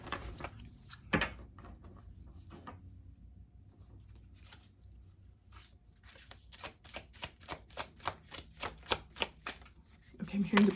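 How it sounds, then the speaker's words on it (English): Tarot cards are shuffled and pulled from a deck, a few soft handling sounds followed by a quick, close run of rhythmic riffling flaps, with a voice speaking faintly at points. "let's pull a couple of cards here."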